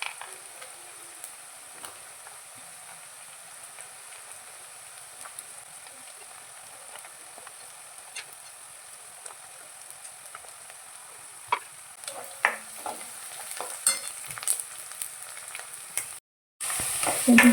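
Onion and peanuts stir-fried in a pan until the onion turns deep red, a steady low sizzle with occasional sharper scraping and clinking toward the end, no voices.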